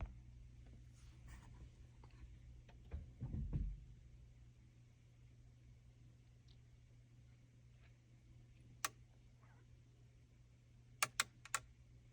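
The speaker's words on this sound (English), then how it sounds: "all that clicking and stuff is the body domain controller doing its thing" The body domain controller of a BMW G series car clicks during coding: a few faint, sharp relay clicks, mostly in a quick cluster near the end, over a quiet hum.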